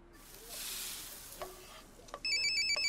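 A short chiming work notification from The Sims 4 plays near the end, a bright electronic tone repeated in quick pulses over low background game ambience.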